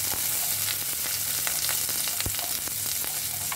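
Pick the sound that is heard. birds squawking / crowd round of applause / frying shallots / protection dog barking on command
frying shallots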